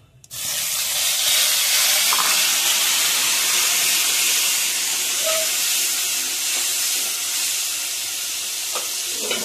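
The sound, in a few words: spice paste poured into hot pan, sizzling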